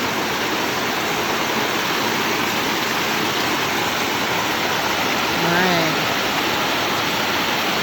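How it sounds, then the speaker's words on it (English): Waterfall along a Pacific Northwest hiking trail near a bridge, a loud, steady broadband roar of rushing water filling the whole scene, with a voice faintly heard beneath it. "There's a waterfall."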